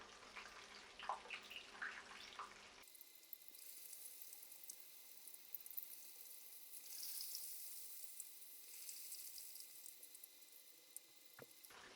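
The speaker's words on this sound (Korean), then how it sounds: "그 온도에서 닭을 넣어서 튀겨주시면 되겠죠" A chicken cutlet deep-fries in 170-degree oil, giving a continuous bright hiss and crackle that sets in abruptly after a few seconds and holds steady, fairly close.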